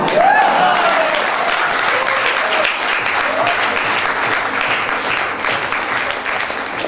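An audience at a goal-setting training seminar applauding, loud sustained clapping from a crowd close by, with a few faint voices underneath.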